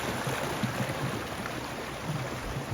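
Three small waterfalls, the Cascades in Big South Fork, rush and splash in a steady, even wash of broadband water noise, moderately close, with no voices.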